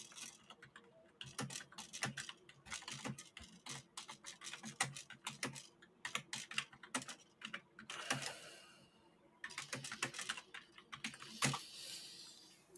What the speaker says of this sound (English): I would appreciate if everyone can stop typing and allow Yoda to put his message across.